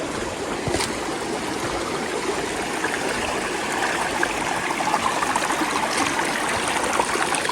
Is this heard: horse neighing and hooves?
no